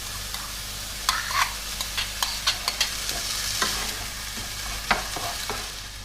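Rinsed, drained quinoa goes into a pot with hot oil, a soft continuous sizzle broken by a series of distinct scraping stirs and spoon knocks, close and fairly loud, with no talking.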